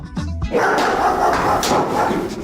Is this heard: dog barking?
yes